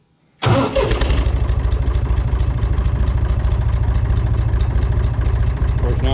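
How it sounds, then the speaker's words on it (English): A tractor engine cranks and catches after a short silence, then settles into a steady, loud, close idle with a rapid even chug. "start the tractor, see what happens here."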